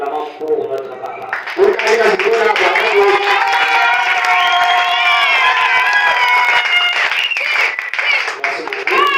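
A church congregation in Mbuji-Mayi, DRC, breaks into loud cheering, clapping and high shouts and ululation that swell after a brief pause and hold strong and close, with voices mixed throughout.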